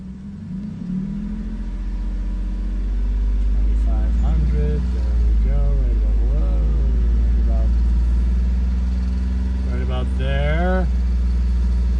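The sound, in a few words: car engine held at 2,500 rpm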